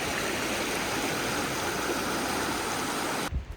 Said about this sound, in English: The water is quite strong, or the current is quite strong